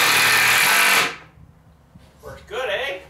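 A screw gun drives screws into a door while building a shed: a loud, close burst of whirring for about a second, then quiet, then another short buzzing run near the end.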